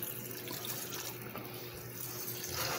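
Tap water running steadily into a sink while macaroni is rinsed, a close, even hiss and splash throughout with no talk.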